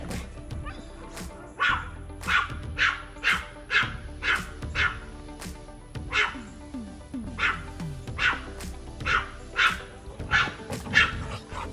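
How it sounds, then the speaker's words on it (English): A dog barks repeatedly in a steady series of sharp, fairly close barks, with some yips mixed in and faint background noise. "I have no idea what she's barking at."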